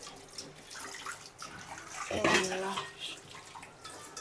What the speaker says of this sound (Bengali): তো ধুয়ে ফেলি ধোয়ার পরে আবার আসতেছি পাতিলটা ধুয়েই